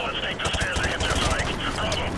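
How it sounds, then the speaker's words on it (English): Rapid gunfire from an M4A1 rifle and enemy weapons in the video game Call of Duty Modern Warfare Remastered, continuous bursts of loud shots with a player's voice talking over them. "because they're shooting"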